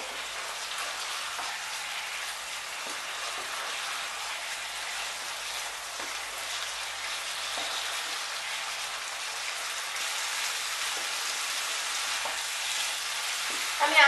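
Pumpkin fries dry over high heat in a pan until it releases oil, giving a continuous soft, even sizzle like light rain that holds steady throughout with faint scattered pops.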